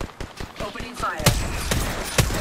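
Rapid gunfire bursts from the video game Apex Legends, several sharp loud shots cracking over a busy battle mix with a voice speaking briefly.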